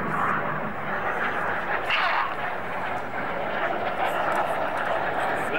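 Red Arrows display jets at Duxford air show flying at maximum performance, a broad continuous roar of jet engines filling the air with a steady rumble, crowd or commentary faintly mixed beneath.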